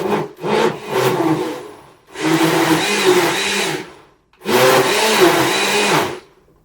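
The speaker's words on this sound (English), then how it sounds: "Pulsing makes everything move more, so it gets blendier." A blender pulses frozen pineapple-mango sorbet mixture in three loud bursts, whirring and grinding with short gaps of silence between pulses, no talking.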